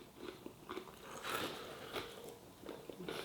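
Close, crisp crunching bites into a crunchy coated piece of breast-meat chicken, several crackly crunches in quick succession.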